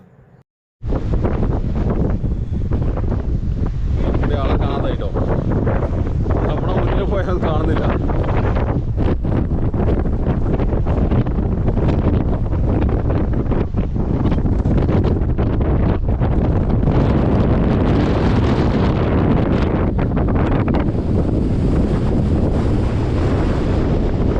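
Strong cold, misty mountain wind on the Agasthyarkoodam trek buffets the microphone in loud, continuous gusts, a roaring rush that swells and eases, with voices faintly audible underneath.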